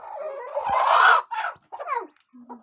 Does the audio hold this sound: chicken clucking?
yes